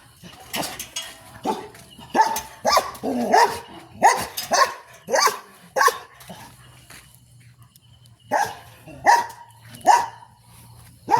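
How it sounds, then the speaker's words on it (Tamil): A dog barks repeatedly near a house and a parked car on a road, sharp loud barks coming in rhythmic bursts with short pauses between them and a low steady hum underneath. "நாய் கத்துது"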